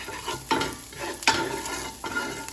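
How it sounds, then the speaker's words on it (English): Shallots sizzle in a hot pan with a little olive oil and leftover bacon grease while a utensil stirs them, making a steady frying hiss broken by a few sharp scraping strokes against the pan. "Cooking the shallots."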